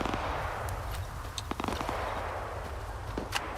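Gunfire in the video game S.T.A.L.K.E.R. 2: Heart of Chornobyl, heard as scattered faint, distant pops and cracks spread over a low steady ambient rumble.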